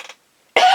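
One sharp adult cough, close and loud, comes at the end of a brief pause after a faint trailing breath.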